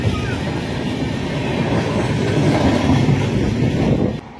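An express train runs from Howrah to Haridwar, a loud, continuous rumble with rhythmic clickety-clack from the wheels, heard close and steady until it cuts off abruptly near the end.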